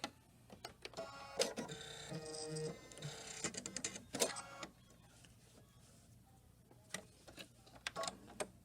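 A Luminaire Solaris embroidery machine stitches in uneven bursts of rapid mechanical ticking and whirring, loud in places and broken by short pauses, close to the listener with no talking.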